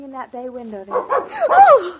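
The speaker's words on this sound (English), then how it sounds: "Why, that's our dog." A big dog in an old radio drama gives a few yelping, whining barks after a brief spoken question, the calls rising and bending in pitch, close and fairly loud.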